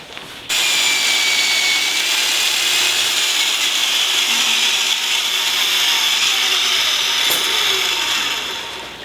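A tube notcher cutting into metal tubing, a loud, steady high-pitched grinding whine that starts abruptly after a short silence and holds for about eight seconds before easing off.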